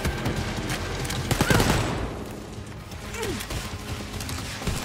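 Gunfire in the video game Wolfenstein: Youngblood, with a burst of shots and a heavy impact near the middle, over a steady background of game noise and mechanical clatter.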